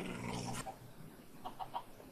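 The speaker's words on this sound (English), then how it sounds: "I'm hearing them growl." Dogs growl in short, low bursts that pause and then resume as a few quieter rumbles, faint and some distance off, with no talk over them.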